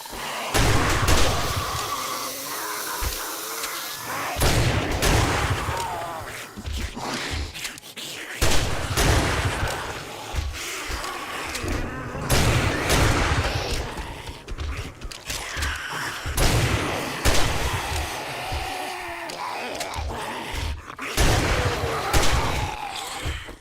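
Rapid AK-47 gunfire in the survival video game 7 Days to Die, dense bursts of shots and thuds repeating throughout, loud and close.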